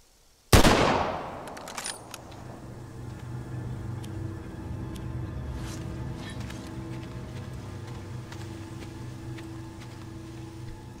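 A single loud gunshot rings out in the Walking Dead: Survival Instinct video game, a sharp blast followed by a lingering, ringing tail over steady low ambient hum, with no talk.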